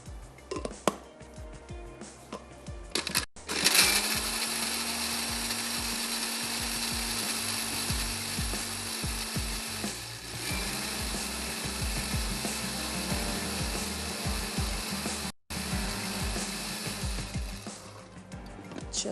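A kitchen grinder whirs loudly and continuously as it grinds onions with a little water, its motor pitch steady for most of the stretch before briefly cutting out near the end.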